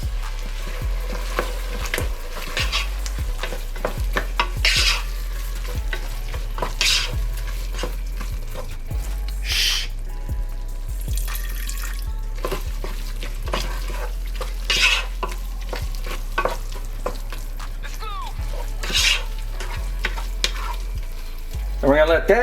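Pinot Grigio stirred into a pot with the base for clam chowder, a loud busy sizzle and repeated spoon scrapes and knocks against the pot, close and continuous over a steady low hum, with no talking.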